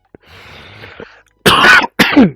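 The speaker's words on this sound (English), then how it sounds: "I'm not sure if I got the coughing in the recording this time" A person coughs close to the microphone, one rough burst and then a second, after a faint throat-clearing rasp.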